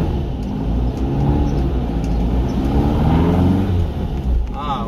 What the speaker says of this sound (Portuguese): vamos dar uma volta com o carro